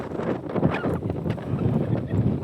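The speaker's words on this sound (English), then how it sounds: "Sorry about all the wind" Strong wind roars across a hilltop in Newfoundland, buffeting the microphone in a steady, loud rumble with gusty surges and no break.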